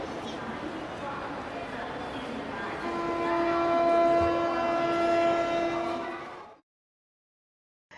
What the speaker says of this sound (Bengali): রেল লাইনে ঘর ঘর শব্দও হতে শুরু করে দিয়েছে